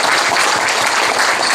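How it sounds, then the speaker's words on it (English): An audience at a Silicon Valley mobile technology meetup gives the panel a brief, steady burst of crowded applause. "I'd like to give applause to the panel here"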